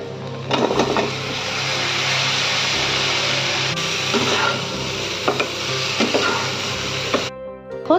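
Ridge gourd and potato with onion, turmeric, salt and cumin sizzle steadily in a hot pan, a loud continuous frying hiss broken by scraping stirs and clattering spatula knocks.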